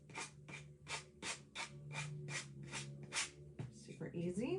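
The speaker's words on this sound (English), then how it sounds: "So I'm going to come down here on the bottom and just sand away that little tiny little excess that was down there." Sandpaper rubbing away excess napkin tissue from the bottom edge of a chunky wooden craft house, a steady run of about ten close, scratchy back-and-forth strokes ending in rustling handling.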